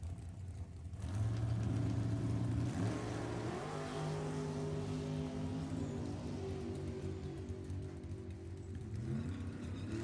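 Drag race launch of a Camaro against Tom Hall's 04 Mullis Dragster, with loud revving engines building and holding a sustained roar, pitch shifting as the cars pull away.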